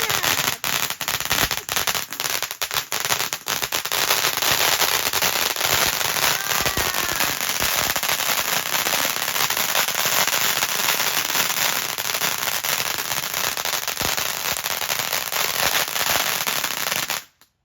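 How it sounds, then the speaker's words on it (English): Dense, continuous crackling and popping of low noise fireworks on Bonfire Night, loud and sustained with sharp bursts throughout before cutting off abruptly at the end. "some are low noise fireworks"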